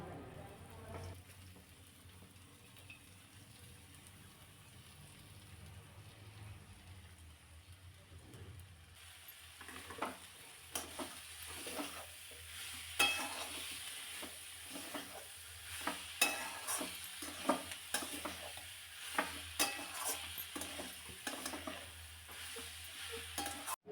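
Chopped fenugreek leaves stir-fried in a pan: a quiet sizzle at first, then from about nine seconds repeated scraping strokes of a spatula against the pan over a steady frying hiss, close and fairly loud.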